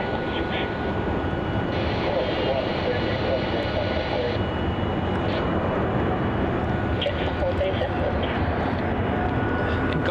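Air New Zealand Boeing 777 touching down at Melbourne Airport, a steady loud broadband jet roar sustained throughout, with a voice talking faintly over it.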